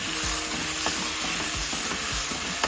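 Fish curry with onion masala cooks in a pan, a constant close sizzle with a few soft stirring scrapes every half second or so.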